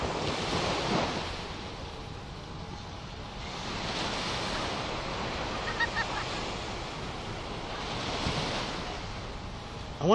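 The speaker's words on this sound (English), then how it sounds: "Yeah, the ocean sounds," Ocean waves roll onto a beach at night in broad, repeated washes of surf, with some wind noise on the microphone.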